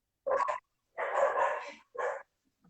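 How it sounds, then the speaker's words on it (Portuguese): Dogs barking at a country property with many dogs, three short bursts of barking at a moderate distance, separated by brief silences, with no talk over them. "eu tô na chácara, tem 27 cachorros. É impossível agora."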